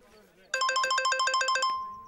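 An incoming call sets a phone ringing, a bright electronic ringtone pulsing in a rapid, even pattern of repeated tones for about a second, loud and clear over a quiet room.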